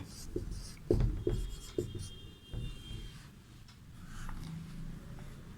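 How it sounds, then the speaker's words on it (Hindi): Pen or chalk writing on a board during a Hindi class: a few distinct taps and short scratchy strokes, close and fairly quiet, with soft room noise between them. "यहाँ पर हम लोग लिखेंगे, अयोध्या के राजा दशरथ थे।"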